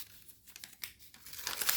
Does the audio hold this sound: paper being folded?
yes